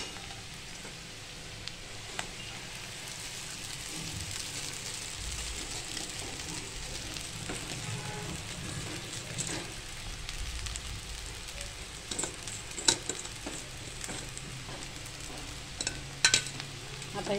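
Kurdai, fried papad strands, being stir-fried with softened onions in a pan: a steady, soft sizzle and crackle, with scattered clicks and scrapes of stirring and no talking.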